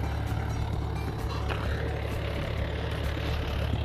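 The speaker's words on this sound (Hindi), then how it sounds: "और ये सुबह से चला रहे हैं ट्रैक्टर आज" A Mahindra 575 tractor engine runs steadily and loud out in a farm field, a continuous low diesel drone with a cultivator working, holding even throughout with no gaps.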